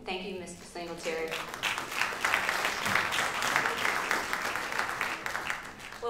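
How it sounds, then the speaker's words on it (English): A sustained round of applause from an audience at a county joint political forum, steady dense clapping filling the room after a brief bit of speech at the start. "let's give all of our candidates a round of applause"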